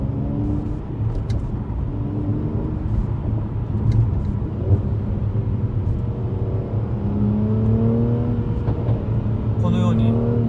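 A 2016 Mercedes-Benz C450 AMG 4MATIC with an aggressive sport exhaust rumbles steadily close by, its engine note rising and falling in pitch, while someone talks over it throughout.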